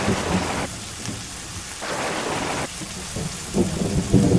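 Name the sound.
rain and thunderstorm sound effect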